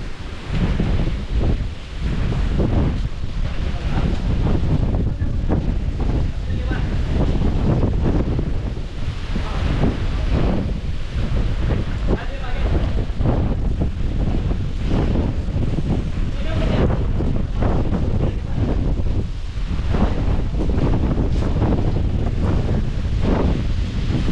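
Strong typhoon winds roar steadily across a farm, buffeting the microphone with continuous loud rushing and gusting noise that never lets up.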